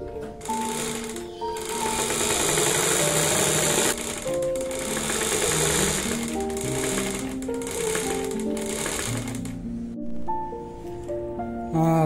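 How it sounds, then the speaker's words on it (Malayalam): A sewing machine stitches along the bottom edge of a paper bag, running in a steady, loud, continuous whir for about twelve seconds with only brief slowdowns, while a melodic background tune plays underneath. "ഇനി നമുക്ക് ബോട്ടം പാട്ട് അടിച്ചു കൊടുക്കാം"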